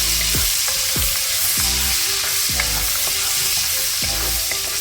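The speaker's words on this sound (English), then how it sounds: "Now we're gonna add in the onion. We're gonna fry this up" Onion frying in bacon grease in a pan, a steady loud sizzle with repeated scraping stirs and utensil knocks against the pan, no talking.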